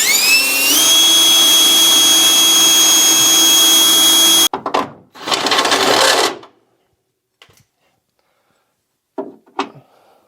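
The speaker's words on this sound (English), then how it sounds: "Let's drill the hole." Power drill boring a hole during fabrication of a shock mount for a gasser's straight axle. The motor whines steadily for about four seconds after a quick spin-up, then cuts off into a few short bursts and taps before going quiet.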